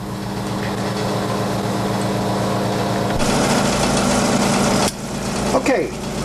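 A lathe spins a glass vacuum tube held for sealing, giving a steady mechanical hum and whir. A brighter, broader hiss joins partway through and then cuts off near the end.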